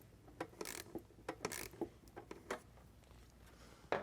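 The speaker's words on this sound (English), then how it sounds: "tighten that down with the 8mm socket" A ratchet with an 8mm socket snugs down the air filter housing bolt on a Ford F150 air intake install, giving a string of quick, near clicks in short uneven bursts, alone with no talk.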